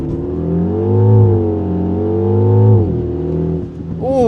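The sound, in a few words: Mini Countryman JCW launch control acceleration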